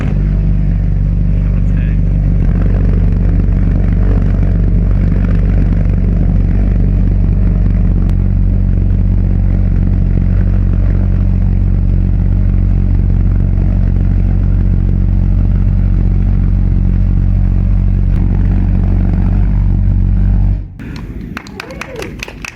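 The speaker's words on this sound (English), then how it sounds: "Behold the Argus S014 PulseJet, a 1940s engine with 660 pounds of thrust." A 1940s Argus S014 pulsejet engine, the type that powered the V1 flying bomb, runs with a loud, steady buzzing roar that holds for about twenty seconds before abruptly cutting to clattering noise.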